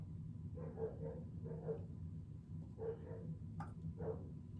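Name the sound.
dogs barking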